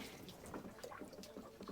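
Cold tap water runs steadily over potatoes held in a colander at a kitchen sink, a soft continuous splashing hiss that stays faint and even throughout.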